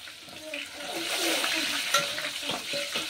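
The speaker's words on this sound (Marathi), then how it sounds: "आता मी टाकणार आहे हिरव्या मिरच्या, हे बघा।" Green chillies sizzle in hot oil with ginger-garlic paste, cloves and peppercorns for Hyderabadi chicken dum biryani, a steady close frying hiss broken by stirring scrapes, with no talk.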